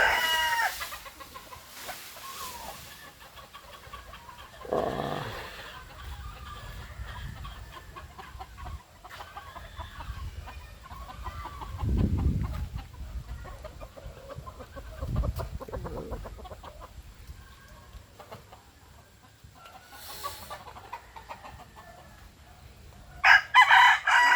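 A stag rooster crows several times at moderate distance, with scattered clucking and quiet farmyard background in between.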